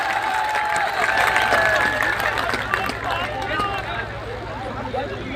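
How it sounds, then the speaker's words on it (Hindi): Audience applause at an All India mushaira and kavi sammelan poetry recital, a sustained wash of clapping from a large crowd with some cheering and murmured voices, loud and steady before tapering slightly. "जोरदार तालियों से इस्तेमाल कीजिए।"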